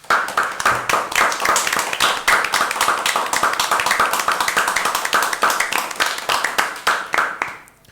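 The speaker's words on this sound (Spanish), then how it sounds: "con un fuerte aplauso." Sustained applause from a seated audience sending off teachers at a school radio broadcast for a 25 de Mayo special, dense steady clapping throughout that fades out at the very end.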